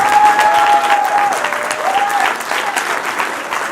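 Audience applause rings out for the women running for the House of Delegates, a dense, steady burst of clapping close by, with a faint high tone running beneath it.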